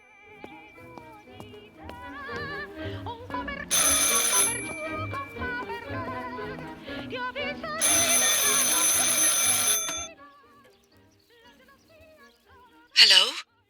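A telephone ringing inside the horror game Martha Is Dead, two long loud bursts of bright bell trill separated by a pause, over quiet ambient music, ending with a short sharp click.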